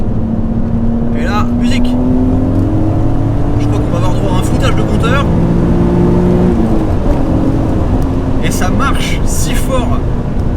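A BMW Z3 M Coupé engine revs hard while driving on a winding road, its loud note rising and falling through gear changes, with a voice heard over it.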